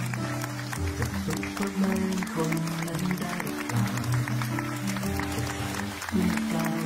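A crowd of Thai people claps in support of doctors and nurses; the steady applause runs throughout, mixed with voices and cheering.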